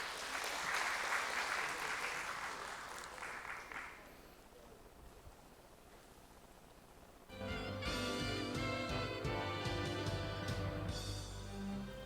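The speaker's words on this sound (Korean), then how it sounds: "큰 박수 부탁드리겠습니다" Audience at a public-institution innovation awards ceremony claps for about four seconds, fading into quiet room tone before loud ceremonial music swells in.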